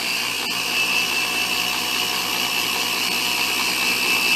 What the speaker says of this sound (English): You can go quite a bit faster on the machine speed with the polish than you can with the rubbing compound.